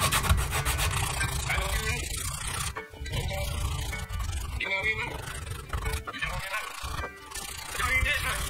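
A wooden crankbait fishing lure being hand-sanded with 100 grit sandpaper, close and busy scratchy rubbing strokes in quick irregular bursts with brief pauses.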